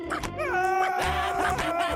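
A dog in the video game Stick It to the Man gives a few short yips and whimpering barks, close and clear, with tonal game music running underneath.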